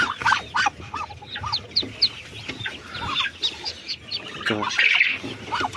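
Newly hatched ducklings peep in high, rapid, overlapping chirps from a box just unpacked from an incubator. The sound is close and continuous, with low handling noise underneath.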